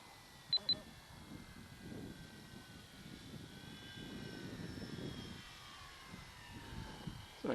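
An electric Timber X RC model airplane coming in to land at a flying club on a windy day, a faint distant whine over steady wind rumble, with a couple of brief beeps near the start.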